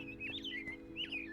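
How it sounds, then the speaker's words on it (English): Birds in the Minecraft video game, playing the Create: Astral modpack, give a few quick, clear chirps and tweets over a low steady hum. "Listen to the birds chirping."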